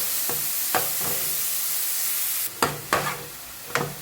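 Chopped green onion and tomato sauté over a low gas flame in a pan, a steady close sizzle and hiss broken by a few sharp scraping stirs of a spoon, with no one speaking.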